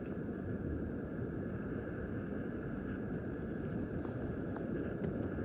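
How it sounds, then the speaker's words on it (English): Steady wind roars across a mountain campsite in Ladakh, a constant broadband rush with no gusting breaks, loud and close to the microphone throughout. "Look at the wind."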